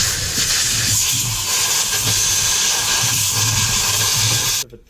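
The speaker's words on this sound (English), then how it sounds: "Just using a little bit of compressed air to blow out in and around the base of these spark plug holes." Compressed air blowing around the spark plug holes of a 2001 Mitsubishi Mirage engine during a service, a steady close hiss lasting about four and a half seconds before cutting off abruptly.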